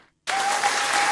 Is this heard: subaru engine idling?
no